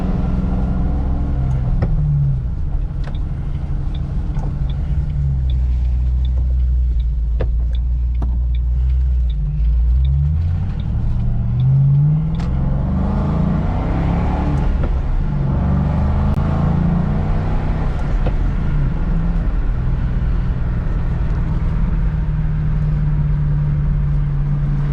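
Steady engine drone and road rumble from a 2006 Ford Mustang GT with a 4.6 V8 and five-speed manual, driving with pitch rising and falling through gear changes, continuous and fairly close.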